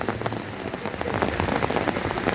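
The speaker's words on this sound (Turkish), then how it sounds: "Şu an şapır şupur yağmur bastırdı." Heavy rain pours down in Antakya, Hatay, a dense, steady drumming of drops on surfaces that holds loud and unbroken throughout.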